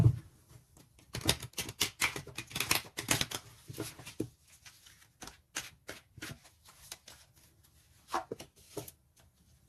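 Tarot cards shuffled and laid out in a reading, with bursts of crisp riffling and slapping near the mic, then scattered single card flicks and taps; no voices.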